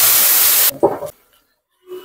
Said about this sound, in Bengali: এই ভাজা মাছের ওপর